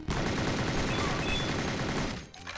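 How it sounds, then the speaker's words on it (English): A Tommy gun fires in the 8-bit noir game Rot Gut, a dense, loud burst of rapid retro gunfire that rattles on continuously before cutting off abruptly. "Now, I think we'll use the Tommy gun here."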